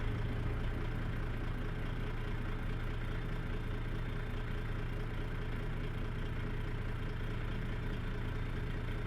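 A Freightliner Argosy truck with a 14-litre Detroit engine of about 620 horsepower idles in American Truck Simulator, giving a low, steady, continuous rumble at moderate volume with no speech.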